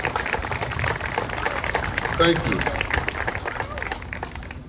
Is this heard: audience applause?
yes